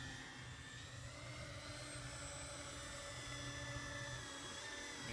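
A VTOL model aircraft in slow forward flight, its motors giving a steady high whine with layered tonal hum, held at an even moderate level for the whole stretch.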